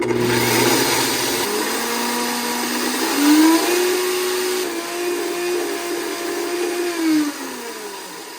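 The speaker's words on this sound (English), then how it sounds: "got the blender filled with greens, and it's gonna turn it right into dust" A blender powders freeze-dried greens with a loud, steady whine that climbs in pitch as the leaves turn to dust, running alone for several seconds with slight fluctuations.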